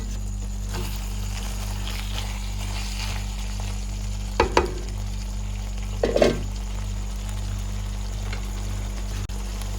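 Mutton keema mixed with spices in a pan: a low, continuous hum and faint sizzle, broken by two short scraping stirs a couple of seconds apart, with no talking.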